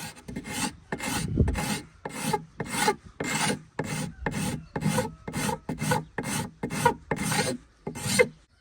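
Skinner knife scraping the back of a wooden plains bow, up close with no talk: about fifteen rhythmic rasping strokes, each a short gritty scrape with brief gaps between, steady and fairly loud.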